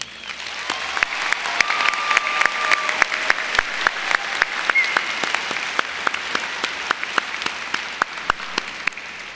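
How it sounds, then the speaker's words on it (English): Spring 2023 business and engineering commencement crowd applauds staff and volunteers, a broad wash of clapping with distinct sharp individual claps popping through, sustained and moderately loud across the hall. "Please join me in giving them a round of applause."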